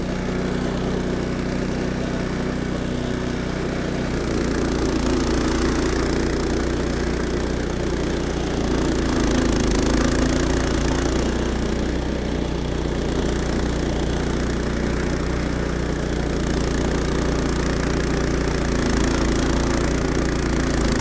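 An Evoline Standard-series two-stage snowblower engine runs steadily at idle, a loud continuous mechanical drone with a slight rhythmic knock. It picks up a little after the first few seconds and keeps going with no talking over it.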